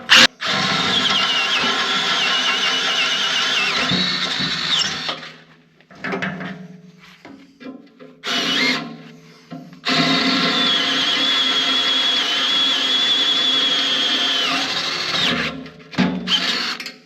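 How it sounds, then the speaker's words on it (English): Power drill enlarging a 1/4 inch pilot hole in metal to 5/16 inch on an offroad wrecker, running loud and steady in long whining bursts with short pauses and bit clatter between them. "All right, that's my 1/4 inch pilot hole drilled. We'll go a little bit bigger."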